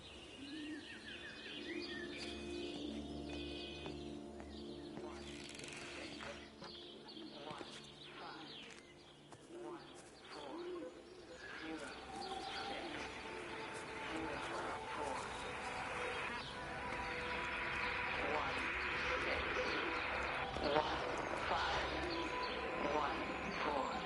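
Birds in Everybody's Gone to the Rapture chirp and coo softly in a quiet outdoor scene, faint scattered calls under a voice talking, with light clip-clopping and ambient tones behind.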